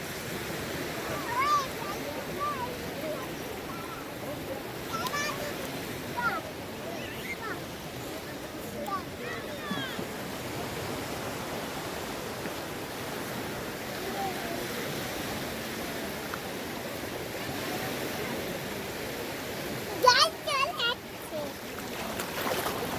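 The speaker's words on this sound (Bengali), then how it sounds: "এই যে ঢেউটা আসছে" Sea waves roll in along a beach, a steady broadband wash of surf with occasional louder surges, heard close by with brief voices and handling noise.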